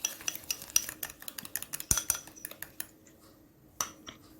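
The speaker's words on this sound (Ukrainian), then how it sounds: "В яєчні жовтки додаємо цукор збиваємо до, до однорідності" Egg yolks and sugar whisked in a bowl for an apple pie produce quick, irregular metallic clinks and scrapes close by, dense at first and thinning out toward the end.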